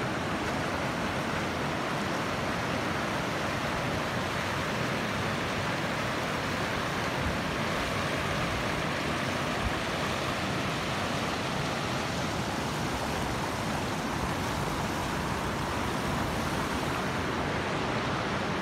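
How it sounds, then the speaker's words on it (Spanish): Water released from the full Algar del Palencia reservoir rushing down along a path, a steady dense roar of flowing water that stays constant and loud throughout, with no voices. "cómo baja el agua por aquí"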